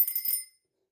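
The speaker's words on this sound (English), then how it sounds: "That deserves the ringing of the bell." A single bell rung once during a trading-card pack opening, a bright metallic ding with ringing overtones that decays within half a second, alone and fairly quiet.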